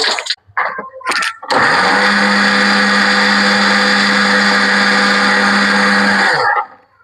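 A mixer grinder grinds coconut chutney in a kitchen, starting with a few short pulses and then running as a loud, steady whirring drone for about five seconds before it winds down, with no talk.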